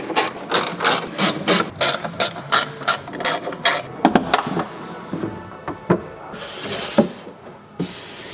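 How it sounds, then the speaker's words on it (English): A T27 Torx ratchet clicks rapidly in repeated bursts while bolts on a Grenadier roof-rack table mount are tightened, the close pawl ticking stopping and restarting, then a few louder isolated clunks and scrapes. "I'm going to take my T27 Torx and start going around and start tightening everything up"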